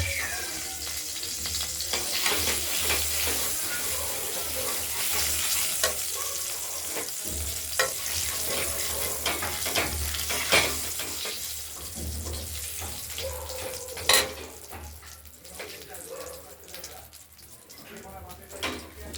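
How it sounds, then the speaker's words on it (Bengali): Bay leaves and dried red chillies sizzle in hot oil in a home kitchen, with a steady frying hiss, occasional stirring clinks, and a voice speaking over it. "তেজপাতা শুকনো লঙ্কা ফোড়ন দিলাম আর দেবো জিরে"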